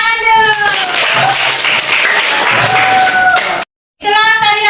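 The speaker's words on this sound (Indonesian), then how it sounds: "Oke, tepuk tangan dulu" Schoolchildren in a classroom clap their hands together on cue, a busy burst of claps mixed with sung or chanted voices, then a brief dropout before voices resume.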